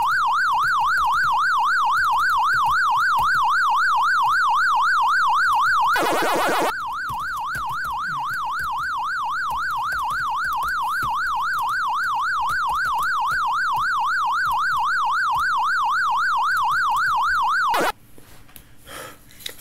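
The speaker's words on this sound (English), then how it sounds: "I don't like that siren." The Pac-Man arcade game's warbling siren loops steadily and loud for most of the stretch, interrupted by a brief burst of game noise, then cuts out near the end.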